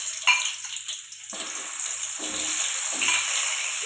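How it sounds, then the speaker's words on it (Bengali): Salted, turmeric-coated pointed gourd pieces drop into hot mustard oil in a kadai, setting off a steady close sizzle that swells into a continuous hissing fry and holds at a moderate level. "এবার আমি তেলে ভেজে নেব। সেই জন্য কড়াটা গরম করে নিয়েছি। এবার এতে দিয়ে দেব সর্ষের তেল।"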